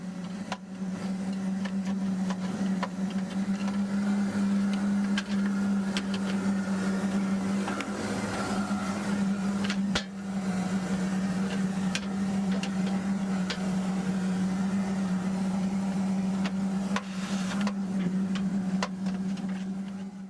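A vacuum running steadily and loudly with a strong constant motor hum while cleaning soot from a wood-burning fireplace chimney damper, with scattered clicks and rattles of debris and the brush along the way.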